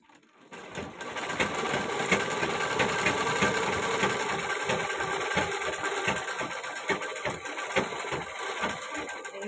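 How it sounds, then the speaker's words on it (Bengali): Sewing machine stitching the side seams of a ghagra skirt, starting after a brief pause and then running in a loud, fast, steady mechanical rattle of needle strokes close by, with no speech. "আমি একটু ঘাগরাটাকে এবার সাইডগুলোকে একটু সেলাই করে নেব"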